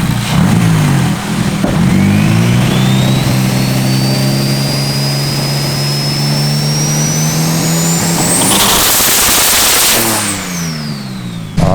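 A car engine is revved hard nearby, a loud, growling roar with a steady climbing whine that peaks in a harsh burst before dropping back, heard up close with no speech.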